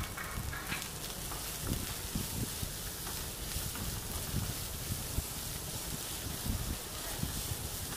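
Curry leaves and coriander being stirred in a hot frying pan, a dense, steady sizzle with soft scraping and shuffling from stirring, close and continuous.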